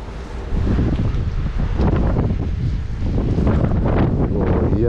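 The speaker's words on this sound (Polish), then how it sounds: "O jeny, i to jeszcze jak wieje" Strong wind buffets the microphone in loud, rumbling gusts near an ATV, roaring almost continuously after a brief quieter start.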